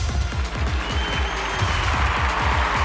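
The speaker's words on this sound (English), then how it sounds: "Well, a mixture of reactions from this crowd as the heck mounts the turnbuckle." Loud, dense wrestling crowd noise with scattered applause and mixed reactions fills the arena continuously, a constant roar from a Saturday Night Slam Masters wrestling game, with no clear talk.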